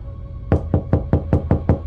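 Door knocking in an indie horror video game, seven crisp, evenly spaced raps in quick succession, loud and near over a quiet low background hum.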